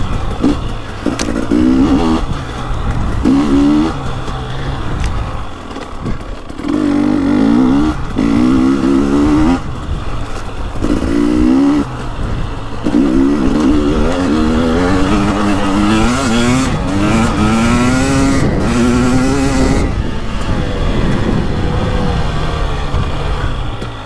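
A KTM 300 two-stroke dirt bike, comparing a 2023 300XC and a 2021 300XCW, is ridden hard off-road, its loud buzzy engine revving and dropping repeatedly in close, aggressive throttle bursts.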